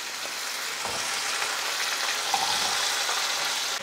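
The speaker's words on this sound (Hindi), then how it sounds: "पहले हम 2 से 3 मिनट आलू को फ्राई कर लेंगे" Potatoes fry in a pan over a medium flame, giving a steady, close, dense sizzle that holds at an even level throughout.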